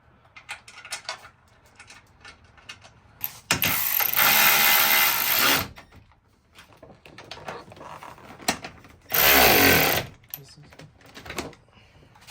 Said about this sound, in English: Now what you want to do is just tighten up all these hose clamps.